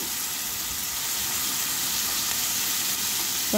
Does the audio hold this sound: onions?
yes